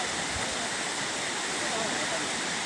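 Water rushing steadily into a flooded rice paddy, a continuous broadband wash like a small stream or weir, close and fairly loud throughout with no pauses.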